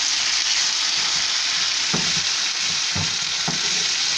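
Chicken pieces sautéing in a pan, a steady dense sizzle throughout with a few sharp stirring clatters near the end; no talking.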